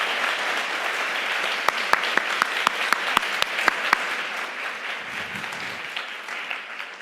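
An audience applauds panelists and sponsors at the close of a civic panel program, steady clapping throughout with a run of sharp, evenly spaced louder claps near the middle before the applause thins toward the end.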